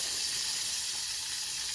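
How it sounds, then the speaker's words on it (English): A constant, close sizzle of butter frying in a hot pan, a bright steady hiss with no talking. "Oh, there it goes. It's sizzling."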